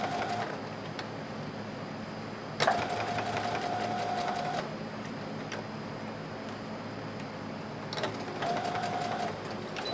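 A sewing machine straight-stitches the underarm seam of a sleeve on a pioneer dress, two runs of fast rhythmic whirring and clatter, close and fairly quiet, separated by a pause with small ticks.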